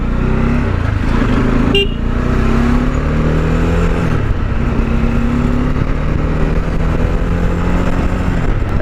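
A Bajaj Dominar motorcycle is heard while riding, its engine droning loud and close under wind noise, with the pitch climbing and falling as the rider speeds up and shifts gears, and a brief sharp sound near the start.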